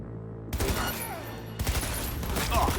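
Rapid automatic gunfire bursts in the video game Cyberpunk 2077, close and loud, broken by a brief pause, with game ambience and a faint voice mixed in.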